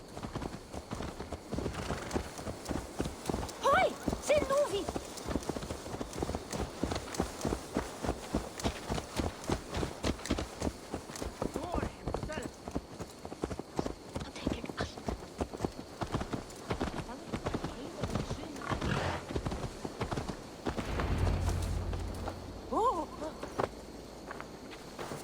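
Horse hooves in Assassin's Creed Valhalla clop in a steady, close walking rhythm throughout, with a brief whinny and a low thump near the end.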